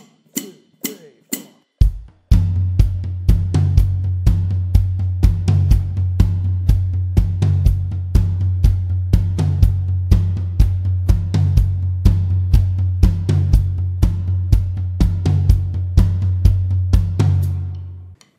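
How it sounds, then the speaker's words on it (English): A drum kit playing the main intro beat of a song, a steady driving pattern of floor tom and bass with cymbal and snare hits, loud and close, following a few sparse opening hits. "Now the main intro beat sounds like this."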